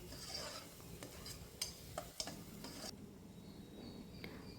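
Curry masala with chicken masala powder being stirred and fried in a pan, with soft scraping and clinks of a spoon against the metal over a faint steady sizzle, and a few sharper taps spaced through it.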